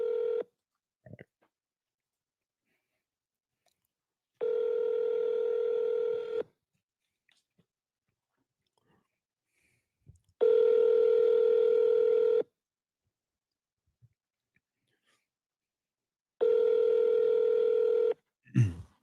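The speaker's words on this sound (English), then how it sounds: "Call Councilwoman Borderland" A phone line rings while calling a councilwoman: three long, even electronic tones about two seconds each, separated by roughly four-second silences with a few faint clicks between them.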